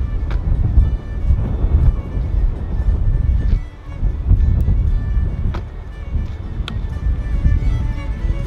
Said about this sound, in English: Microphone's gonna hear anything except for the wind, but it's a little bit windy.